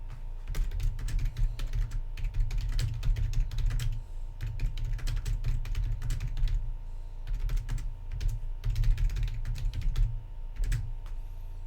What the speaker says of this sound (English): It's hard to type on the interstate.